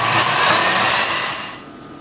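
An electric hand mixer whips egg whites for île flottante in a home kitchen, a steady close whirring drone that holds loud for about one and a half seconds, then drops off as the beaters slow or lift out.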